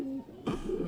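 A pigeon coos softly, a low rolling murmur that drops out briefly and then returns in a few quick pulses, close by and alone.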